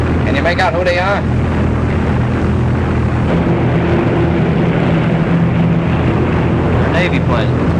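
Navy propeller planes passing overhead make a sustained, loud engine drone throughout, with brief voices talking over the steady roar at the start and end.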